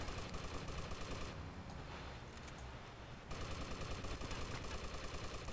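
Rapid automatic gunfire in the video game Vice City rattles in dense continuous bursts, pauses briefly for about two seconds, then resumes at the same rapid pace.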